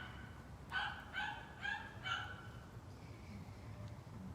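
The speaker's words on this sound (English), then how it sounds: "We've got a very barky dog here." Four quick barks from a dog, a little distant and evenly spaced, rise over a quiet steady background with no talking.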